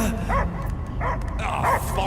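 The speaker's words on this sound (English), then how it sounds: "I hear only barking." A dog in the Marvel's Guardians of the Galaxy video game barks and yips in three close, loud bursts spaced about half a second apart, mixed with game voices and ambience.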